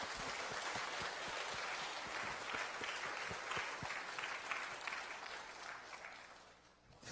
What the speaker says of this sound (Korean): 우리 장로님 가정을 박수로 한번 초청해 주셨으면 감사하겠습니다.